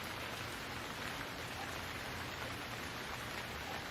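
Steady, soft rain falling around a cottage with a tiled roof, a continuous even hiss of drops with no distinct splashes, faint and uninterrupted throughout.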